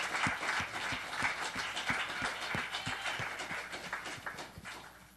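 A church congregation claps together in a steady, fast rhythm, the beats even and continuous throughout with no voices on top.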